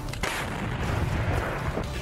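A Russian 2S7 Malka self-propelled artillery gun fires shells toward Ukrainian positions, heard as a short burst of heavy booming blasts with rumbling tails, fairly distant and with no speech.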